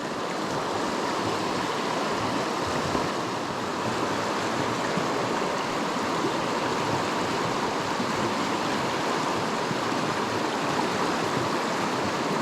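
Heavy river current rushing steadily through a trout stream, a dense, continuous broadband roar of flowing water with no pauses, loud and close throughout.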